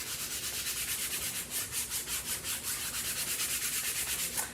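Chalk paint rubbed into a wood block across the grain, a steady rhythmic scrubbing rasp with quick regular back-and-forth strokes, close and continuous with no voices.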